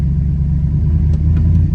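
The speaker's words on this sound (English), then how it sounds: "if you try to go in drive it just revs" A Chevrolet Silverado engine with a 4L60 transmission that won't engage drive hums in a steady low rumble at close range, a few faint higher blips riding on top, with no clear surge of revs.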